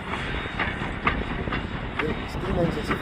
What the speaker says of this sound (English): It's the zombie train.